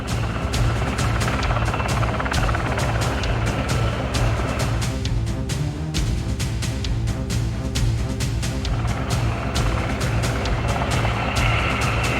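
A large military helicopter with a 16-metre rotor and door-mounted machine guns, seen at an airshow, gives a loud, continuous rotor thump and turbine roar throughout, close and steady.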